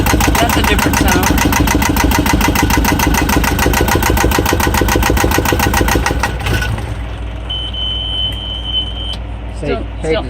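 A Yanmar diesel engine runs with an abnormal rapid knocking clatter, loud and close, then shifts to a lower, rougher idle as voices talk over it.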